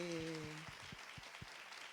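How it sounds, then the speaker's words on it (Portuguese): A crowd claps steadily in a dense wash of applause while a voice speaks over it at the start. "a primeira coisa que eu queria aqui é uma salva de palmas para Carol Cavenaghi"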